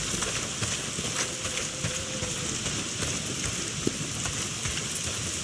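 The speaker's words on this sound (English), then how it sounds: "not if it's pissing down rain" Heavy rain pours down steadily in the open-world game Days Gone, a dense, even hiss of drops on surfaces that runs continuously throughout with no talk.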